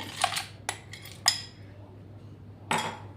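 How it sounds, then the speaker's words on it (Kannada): Several ice cubes are dropped one by one into muskmelon juice mixed with milk, giving four sharp, close clinks spaced apart with quiet between them. "ಐಸ್ ಕ್ಯೂಬ್ನ ಹಾಕ್ತಾ ಇದ್ದೀನಿ."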